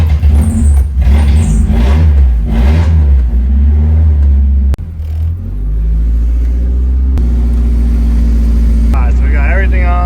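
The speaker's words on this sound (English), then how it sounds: "The way I'm gonna figure out if we need it or not is start the car." A Nissan S13 engine starts up and revs with a loud, throaty rumble that rises and falls through several revs, then settles into a steady idle. Voices can be heard over the engine in the first part.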